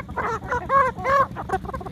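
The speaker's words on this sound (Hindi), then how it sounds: "चीनी मुर्गी है" A Chinese-breed chicken, a Shamo-type fowl among other poultry, gives several close, harsh calls and clucks in quick succession over a low background murmur.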